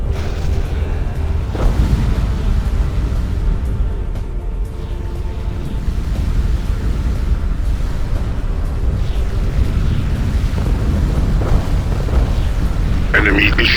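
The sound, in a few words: enemy fire and explosions in video game Ground Control 2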